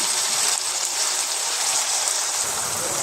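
Soaked rice for a vegetable biryani tumbles into a cooking pot without any water, making a steady rattling patter that stays fairly loud and continuous for about three seconds.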